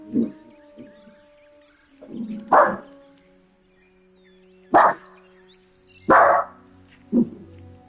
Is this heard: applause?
no